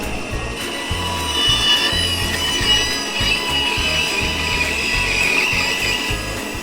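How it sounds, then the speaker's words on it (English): Bandsaw rough cutting circles from scrap 3/4-inch fir board, a steady close hum with a high whining tone and a rhythmic low chatter running continuously throughout. "So this project uses the bandsaw also. I just need to rough cut some circles out of some scrap 3/4 material"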